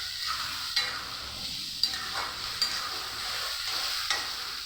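Drumsticks and potatoes are stirred with spices and salt in a pan. A steady sizzle of frying runs throughout, with a few sharp scrapes of the spoon at intervals.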